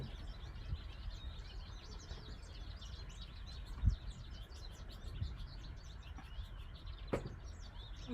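Small birds chirp faintly outdoors in the background, scattered high tweets repeating over a low, steady rumble, with a few soft knocks and no talk.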